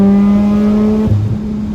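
A Mazda RX8 rotary engine holds a loud, steady droning exhaust note that drops abruptly and rumbles lower, close by with no talk.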